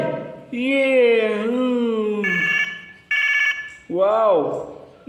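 A toy mobile phone rings with loud electronic melodic tones in several bursts, sliding and warbling notes separated by brief gaps, close and clear.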